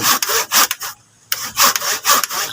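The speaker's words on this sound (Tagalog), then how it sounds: "Yan mga kabay, lagariin ko na siya." A hand saw cuts through a tree branch being prepared for marcotting, with rhythmic back-and-forth rasping strokes, a brief pause mid-cut, then more steady strokes, close and loud.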